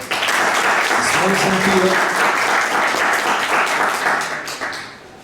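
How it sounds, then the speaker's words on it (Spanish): An audience at the Bogotá International Book Fair applauds with sustained, dense clapping that fades toward the end, while a voice speaks briefly over it. "Démosle un aplauso, por favor"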